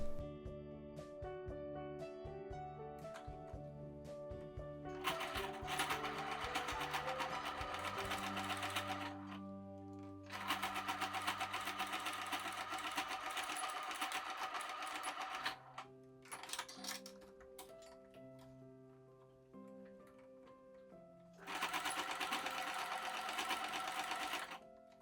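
A sewing machine runs stitching bulky fabric, with its motor whirring in several long bursts of rapid, even stitching separated by pauses where a lower mechanical hum and clicks continue.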